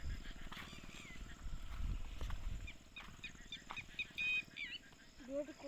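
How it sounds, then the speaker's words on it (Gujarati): Frog croaking near a village river under a dark rain-threatening sky, heard as short tonal calls late in the stretch over steady wild outdoor ambience and low rumble, with other animal and bird sounds around. "દેડકો બોલે હે."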